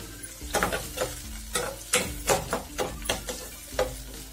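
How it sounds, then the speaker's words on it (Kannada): Tomatoes frying with onions in a pan, with quiet, steady sizzling broken by repeated sharp scraping strokes of a spoon stirring, about two per second, close and fairly soft. "ಇದಕ್ಕೆ ನಾನು ಟೊಮೆಟೊ ಹಾಕ್ತಾ ಇದ್ದೀನಿ. ಇದನ್ನು ಒಂದು 2 ನಿಮಿಷ ಚೆನ್ನಾಗಿ ಫ್ರೈ ಮಾಡ್ಕೋತಾ ಇದ್ದೀನಿ."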